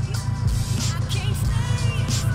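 A transmission cooler fan on a boosted automatic Toyota 86 runs as a steady low electric drone with a faint pulsing whir, close and constant throughout, with no talking.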